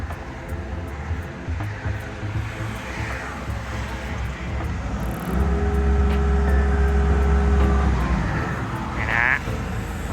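A Komatsu WA100-5 wheel loader runs its diesel engine at a steady rumble, then revs harder with a rising hydraulic whine as it lifts its bucket and arm, close and loud.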